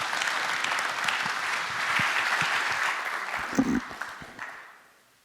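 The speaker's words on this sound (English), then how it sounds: "Can we get a big round of applause for Jimmy Glatfelty and Representative Harris?" Sustained applause from an energy summit audience, full and steady with scattered louder claps near the end before it tapers off and fades out.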